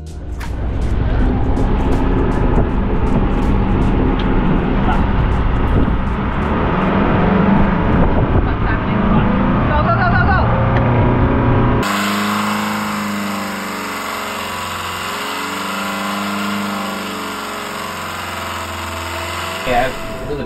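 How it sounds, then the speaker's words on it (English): A sailboat's engine racing out of control while out at sea off Monterey, California, a loud, steady roaring drone that runs on continuously, then shifts to a harsher, more tonal whine partway through. "Our engine just ran away."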